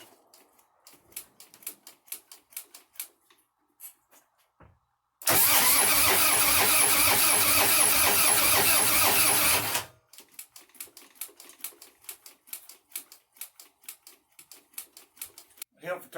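A Harley-Davidson motorcycle engine, freshly reassembled after a base gasket teardown, cranks and fires into a loud, steady run lasting about four seconds before cutting off, with workshop clatter and faint voices before and after.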